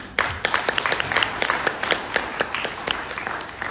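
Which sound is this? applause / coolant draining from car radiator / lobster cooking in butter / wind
applause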